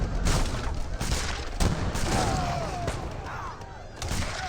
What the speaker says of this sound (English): And the culverins do get a good volley on the fixed gun.